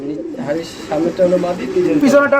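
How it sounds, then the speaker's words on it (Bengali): Bombay pigeons cooing in soft, repeated low calls, close by, mixed with a faint background voice. "বাংলাদেশ কাঁপানো বোম্বাই কবুতর"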